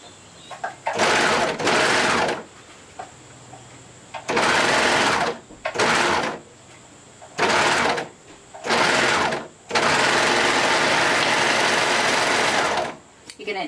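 A sewing machine stitches bikini bottom lining in loud, steady bursts of motor whir, starting and stopping repeatedly with short pauses between runs, close to the listener.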